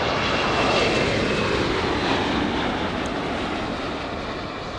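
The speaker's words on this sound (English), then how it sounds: "let's go to the Dreamliner coming in" A Boeing 787 Dreamliner airliner on approach to land at Los Angeles International Airport, its steady jet engine roar loud and broadband, holding for the whole stretch and easing slightly toward the end.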